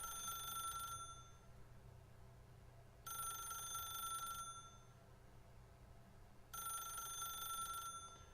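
Telephone ringing in the video game The Stanley Parable: three bright, electronic ring bursts, each lasting over a second, spaced a few seconds apart and fairly faint, with no talk over them.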